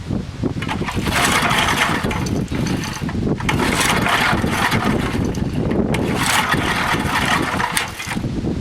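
An old 1990s Craftsman 2400-watt portable generator engine runs loudly and close by, a steady rough mechanical drone with small fluctuations throughout.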